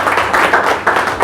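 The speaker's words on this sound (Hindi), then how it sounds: "तो एक उस्ताद के लिए अच्छी वाली तालियां बजिए।" Audience clapping for a coach at a motivational speech, a dense steady patter of many hands filling the short stretch, fairly loud and close, with no voices over it.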